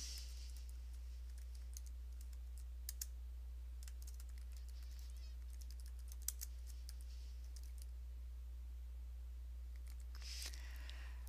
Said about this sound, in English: let's type in hometown